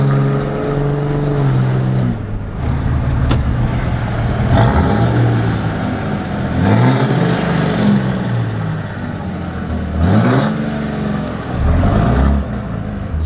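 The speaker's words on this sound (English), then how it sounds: "let's get some more exhaust clips, because that is a great sound" A truck engine revving repeatedly, a loud rumbling exhaust rising and falling in pitch with each throttle blip, close by and continuous.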